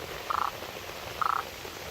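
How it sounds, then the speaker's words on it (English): A frog in the Amazon rainforest gives two short, rapid pulsed croaks about a second apart, clear and fairly close against a quiet background hum. "There's a frog."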